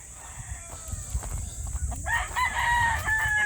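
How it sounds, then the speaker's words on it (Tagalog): A rooster crows nearby in a mountain range area over low rumbling background noise, with a few clucks before the drawn-out call. "Yan ang manok."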